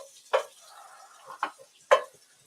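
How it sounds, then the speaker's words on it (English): A spoon stirs onion and chili beans in a pot, three distinct scraping, sloshing strokes close up, with a soft bubbling between them and no talking. "going to stir"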